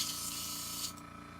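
A paint spray gun fires only air when the trigger is pulled, a loud steady hiss that drops off abruptly near the end.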